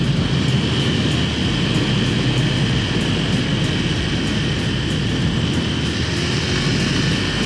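Used 2012 Honda Tiger Revo motorcycle being ridden, with slight vibration, a steady dense engine and road roar with strong wind rush, loud and constant throughout, with no talking.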